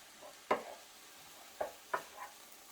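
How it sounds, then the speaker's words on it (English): Lentils are stirred into cauliflower rice in a frying pan, giving a few separate, faint scraping strokes with quiet gaps between them and no talk. "I've drained them and rinsed them, and then just adding those in as well. Giving that a mix through."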